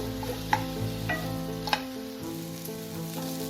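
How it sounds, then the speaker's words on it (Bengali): Potato filling with a handful of coriander leaves is stirred in a pan for vada pav, a soft steady sizzle with a few sharp clinks of the spoon against the pan. "দিয়ে এটাকে ভালো করে মিশিয়ে নেব।"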